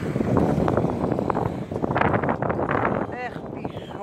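Wind blowing outdoors in the Netherlands in December, a steady, rushing gusty roar buffeting the microphone, with people talking over it.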